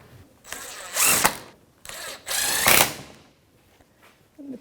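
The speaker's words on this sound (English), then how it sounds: "10mm socket, and I'm going to snug these up" A power tool with a 10mm socket snugs up oil pan bolts on a 2014-2019 Toyota Corolla 1.8L L4, two close whirring and ratcheting bursts about a second long separated by brief pauses.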